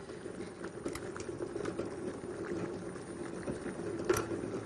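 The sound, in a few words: two pots of water boiling in the kitchen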